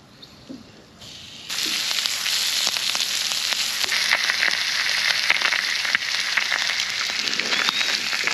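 Butter sizzles in a frying pan before fish goes in at a solo campsite, starting quietly and then bursting into a loud, steady frying hiss with small crackles, no talking.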